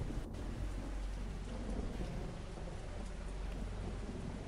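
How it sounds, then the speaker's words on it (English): Steady heavy rain with rumbling thunder from the video game BUCK: Saturday Morning Cartoon Apocalypse, a dense continuous hiss running as a short loop. "And now you can hear what I meant with the rain."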